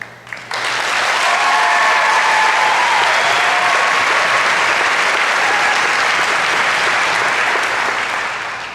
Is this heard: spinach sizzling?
no